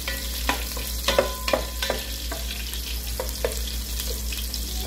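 Garlic fries in a pan for sinigang na bangus, a steady close sizzle broken by sharp clicks and scrapes of a utensil stirring, with no talking.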